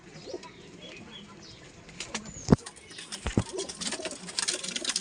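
Adult pigeons, male and female, coo softly and low, with a couple of sharp wing flaps and a rustling flutter partway through.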